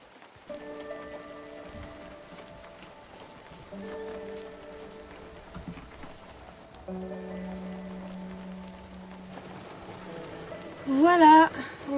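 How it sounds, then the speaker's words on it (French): Heavy rain falls on a surface while travellers pack a van during a rainy cycling trip, a steady patter under intermittent talk and held tones, with a louder burst near the end. "Il pleut énormément"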